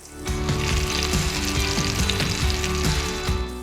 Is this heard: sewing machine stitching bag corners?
no